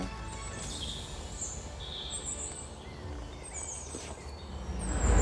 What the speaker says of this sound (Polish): głównie ptaków, które właśnie w tej chwili słyszymy